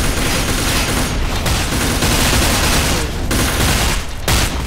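Dense, continuous gunfire from the video game FEAR Online in its Armored Front mode, loud volleys of rapid shots overlapping without pause for the whole stretch.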